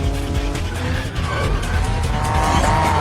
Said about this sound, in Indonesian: Namun Takashi dan Marimoto segera masuk ke dalam mobil dan terjadilah kejar-kejaran di tengah kota Tokyo.